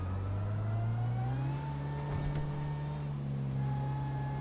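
A performance-modified motorbike in GTA 5 accelerates with a steady, droning engine note that holds and gently climbs throughout, close and continuous with no talk over it.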